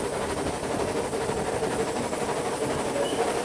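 Southern Railway steam locomotive Clan Line 35028 heading into Shakespeare Tunnel, a dense continuous roar of rolling wheels and carriages with a faint rhythmic clatter, loud and unbroken throughout.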